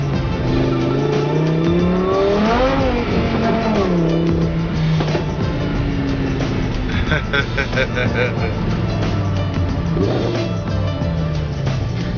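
Sports car switched to Corsa mode with stability control off, engine revving hard and accelerating with tire squeal, loud and close throughout, while someone talks over it.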